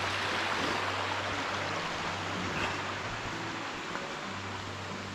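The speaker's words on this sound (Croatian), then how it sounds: "Blatnjavim drumom do Mutnog potoka, tako se zove." A mountain stream on the way to a Treskavica mountain hut runs as a steady broadband rush, even and continuous throughout, with a low hum underneath and no voices.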